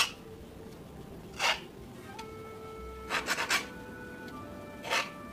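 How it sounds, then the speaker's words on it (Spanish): A file rasps against PVC pipe, shaping a quena flute, in a few short strokes, a single pass, then a quick cluster of three, then another, with faint background hum. "Y luego yo uso esta lima"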